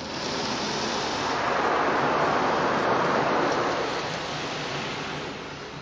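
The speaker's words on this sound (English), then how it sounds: "Rinsing." High-pressure water spray rinses a car in a car wash, a dense steady hiss that swells and eases slightly as the nozzle sweeps, loud and close with no voices.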